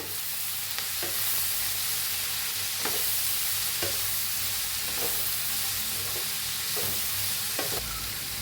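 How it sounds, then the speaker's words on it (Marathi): Shredded cabbage with turmeric hisses loudly in a hot pan, with a spatula knocking and scraping at intervals of about a second, close up and continuous, no one speaking. "ह्याला बी चांगलं मिक्स करून घेऊया"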